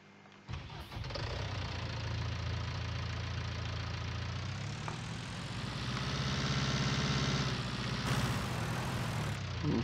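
A New Holland tractor engine in Farming Simulator 19 starts and then runs as a steady, loud, close rumble that swells slightly toward the end.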